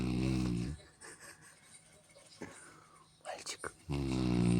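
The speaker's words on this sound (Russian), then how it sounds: "Мальчик, хватит храпеть." A boy snoring, with loud throaty snores at the start and end and quieter breathy, snorting sounds between them, heard close by.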